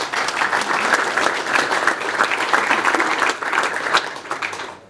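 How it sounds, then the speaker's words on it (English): An audience gives a dense, sustained round of applause at a golf charity event, many hands clapping steadily and fairly loud, tapering off at the very end. "I'd just like to give a big round of applause to the guys at Drummond Golf"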